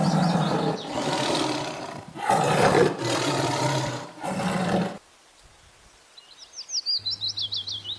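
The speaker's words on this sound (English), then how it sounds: "T. T for tiger." A tiger roars in several loud, rough bursts over about five seconds. Quieter bird chirps and a low hum follow the roars.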